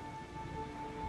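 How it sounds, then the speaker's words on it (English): Steady rain pours down during a hurricane in the video game Macrotis: A Mother's Journey, heard as a constant soft hiss over a low rumble, with a thin sustained tone above it and no voices. "The rain pouring from the heavens caused a terrible flood"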